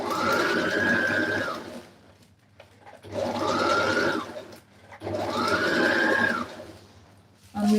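A sewing machine stitches a peplum blouse in three separate runs of about two seconds each, every one rising and falling in pitch as the motor speeds up and slows, with quiet pauses between.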